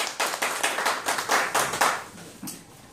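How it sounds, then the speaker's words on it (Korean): A small class claps along in a lecture room, a short, uneven burst of hand claps at moderate distance that peaks early and thins out after about two seconds. "여기서 박수를 한번 치자."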